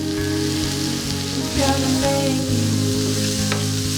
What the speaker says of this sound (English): now the spices have been cooking for a minute or two and there's a nice aroma